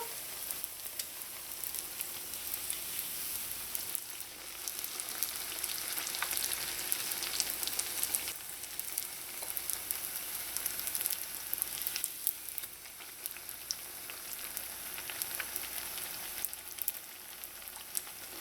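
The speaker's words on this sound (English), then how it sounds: "your heat should be medium low because you want it to take its time and fry and create a nice hard crust" Trinidad-style jalebi batter frying in hot oil over medium-low heat, giving a dense, even crackling sizzle that holds steady and close throughout, with no talking.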